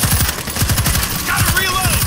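Rapid automatic gunfire in World War Z Aftermath, Jerusalem level, hammers out in fast, close bursts of evenly spaced shots, with faint tonal game effects rising near the end.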